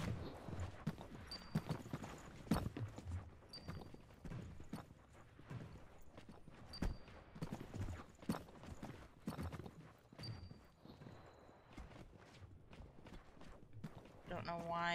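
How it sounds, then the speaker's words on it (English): Footsteps in the video game Hyperscape thud and patter quickly and irregularly throughout, fairly prominent, while a person talks over them. "the footsteps are, like, really loud to me."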